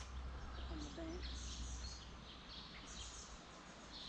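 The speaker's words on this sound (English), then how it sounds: "that's an interesting native bird" A few faint bird calls, short chirps and thin whistles, drift over a low, steady outdoor rumble.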